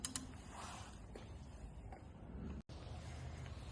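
A Nastec 4HS MultiPower submersible borehole pump shaft is turned by hand, giving faint mechanical clicks as it steps through its notches over a steady low background, with no talking.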